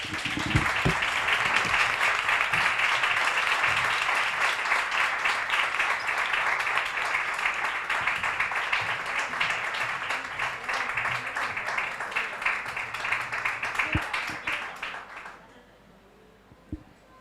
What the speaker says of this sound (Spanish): Un aplauso para Clara, por favor.